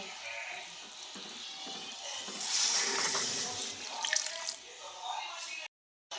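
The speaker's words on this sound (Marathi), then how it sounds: "गरम केलेलं पाणी टाकून घेते आता" Hot water pours into a hot pan of thin brinjal curry with a loud, steady hiss and bubbling splash, briefly cutting off just before the end.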